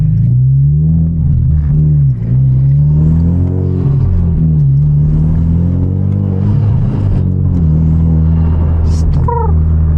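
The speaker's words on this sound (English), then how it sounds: "downshifting is one of the best parts of having a manual" A 300HP manual coupe engine revs and drops through gears while downshifting on a midnight drive, a loud, steady close-up roar with rising and falling pitch throughout.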